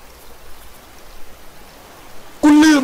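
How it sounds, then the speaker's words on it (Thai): Steady soft patter of rain falling fills the background, continuous and even, before a loud tonal burst cuts in near the end. "ฝนก็ยังตกอยู่แฮะ"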